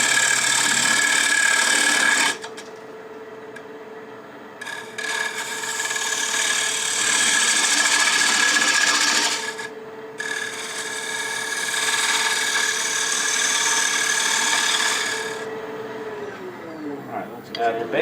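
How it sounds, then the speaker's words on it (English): Lathe spinning a wooden picture frame while a detail spindle gouge scrapes the wood, a loud steady whirring hiss that cuts in and out in several long passes, with a whine as the lathe winds down at the end. "Detail spindle gouge is probably easier on this. And then I can scrape it a little bit better."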